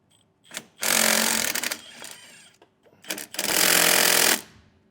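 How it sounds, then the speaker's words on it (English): A power tool with a 14mm socket spins off the nuts holding an electric brake assembly on a 2019 Grand Design Reflection 150 trailer, in two loud rattling bursts with short quiet gaps. "we're going to take a 14mm socket and remove the 5 nuts that are holding our"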